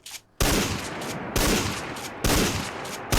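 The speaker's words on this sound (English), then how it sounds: "It's a wonderful shotgun." Three loud, booming blasts from a Remington Model 870 pump shotgun in Fallout 4, evenly spaced about a second apart, each followed by a short decaying tail.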